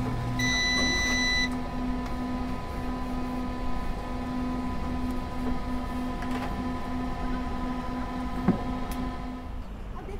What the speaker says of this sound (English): When the maker sounds a beep and finishes cooking,